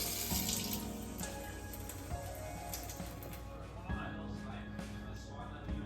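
Water runs steadily from a kitchen tap, a continuous splashing rush with a few faint clinks and knocks of kitchenware, while homemade pasta dough is prepared.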